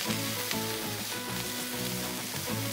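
Butter sizzles and crackles on a hot Blackstone griddle, a steady close frying hiss with a faint scraping tone underneath.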